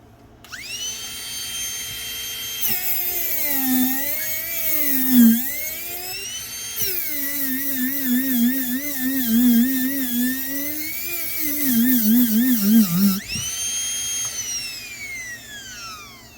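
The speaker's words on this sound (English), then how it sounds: "Another demonstration here is sanding drum." A coarse sanding drum spins on a rotary tool, a high whining grind that rises and falls in pitch as it bites into a deep cut, sustained and fairly loud with brief pauses.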